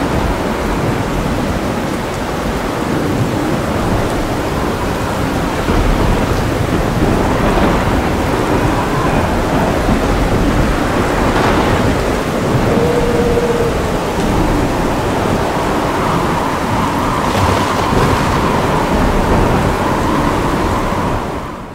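Heavy rain pours steadily through a tornado-producing thunderstorm, with rumbling thunder rolling beneath a loud, continuous wash of downpour that never lets up.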